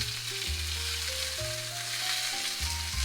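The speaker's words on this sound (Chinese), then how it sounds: "等煎至表皮金黄，把肉翻个面，每面大约煎1分钟左右" Chicken thigh pan-frying in hot oil for teriyaki chicken, a loud, steady close sizzle that runs without pause, with a few low clinks and scrapes of cookware underneath.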